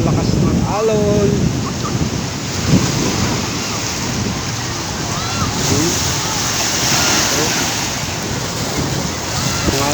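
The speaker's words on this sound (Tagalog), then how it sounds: "Ang alon, pa-high tide na kasi." Heavy surf pounds a beach at Piapi Beach Resort at high tide, a continuous rushing roar with swelling crashes and microphone wind noise; someone talks briefly over the waves.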